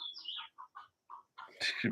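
Chickens clucking and chirping in short, broken calls, with a louder, busier flurry of squawks at the end.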